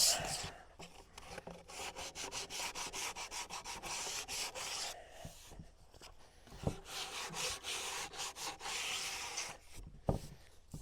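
Power sander with 120-grit paper working across an end-grain wooden cutting board, a steady close abrasive rasp with brief pauses and repositioning knocks, no talking.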